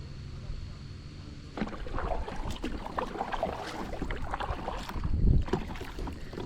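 Kayak or canoe being paddled on the Erie Canal in wind, with soft water splashes and strokes close by over steady wind noise, a louder splash near the end.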